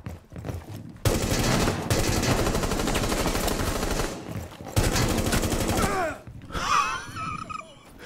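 Rapid automatic gunfire in a Rainbow Six Siege team deathmatch, loud sustained bursts broken by brief pauses and a shorter final volley, with game sound effects trailing off at the end and no speech.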